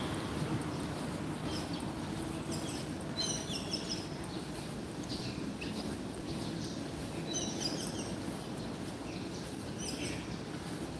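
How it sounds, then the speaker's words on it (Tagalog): A gathering flock of birds where people feed bread chirps and tweets in scattered bursts, fairly faint over a steady outdoor rumble of wind and distant noise. "Dumadami ang ibon dito kasi may nagbibigay po ng tinapay."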